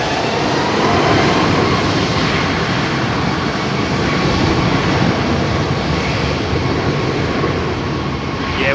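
A Boeing 737 airliner's engines roar steadily at London Heathrow, a loud, continuous broadband rumble that holds without break.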